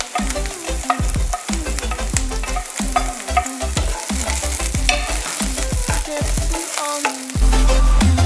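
Onions frying in a pan for vegetable pulao, a loud continuous sizzle close up with repeated rhythmic scraping and stirring strokes throughout, no voices.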